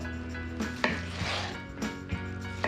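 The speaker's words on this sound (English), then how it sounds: "So I'm dicing this into pretty small pieces" A knife dicing tomatoes into small pieces on a cutting board, giving a few close, irregular chops over a dull rubbing background.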